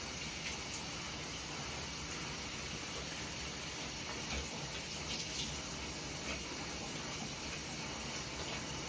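Water runs steadily from a shower while a dog is bathed early in the morning, a constant hissing gush at moderate distance with no pauses.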